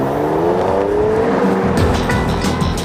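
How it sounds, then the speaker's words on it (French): Porsche Macan S (2014) launching hard off-road under launch control, a loud continuous engine roar with rising revs and tire noise, close and steady throughout. "Démonstration, pied gauche sur le frein, pied droit sur l'accélérateur, et c'est parti!"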